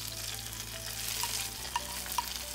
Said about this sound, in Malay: Terus curahkan bahan tumisan ke atas kari yang masih panas tadi.